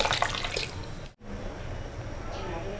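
Water pours steadily into a pot of pongal kuzhambu as it cooks, a continuous splashing rush with a brief break partway through.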